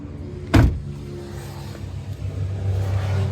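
A car at a vehicle dealer's lot cranks with a short loud burst, then settles into a low, steady engine hum that grows slightly louder near the end, with no talking.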